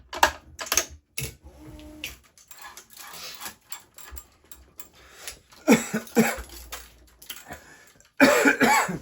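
A man has a coughing fit, several harsh, abrupt coughs in irregular bursts separated by quiet gaps, close to the microphone and louder toward the end, with light clicking and tapping in between.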